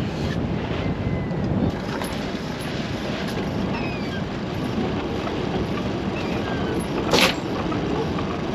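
Wind blows across open ground outdoors, a steady rumbling buffet against the microphone with brief gusts, no voices.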